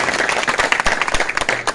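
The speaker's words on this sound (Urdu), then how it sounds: "تو ان بچوں کے لیے زوردار تالیاں آپ لگائیں گے" Steady, dense applause from a church service audience clapping for children, loud and close, with scattered sharp individual claps over the crowd.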